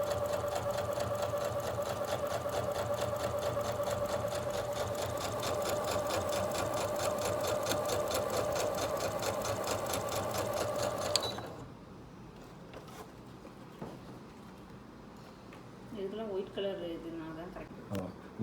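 A Brother DS1300 sewing machine stitches piping in a steady, fast whirring run for about eleven seconds, then stops abruptly, followed by quiet handling and a person speaking.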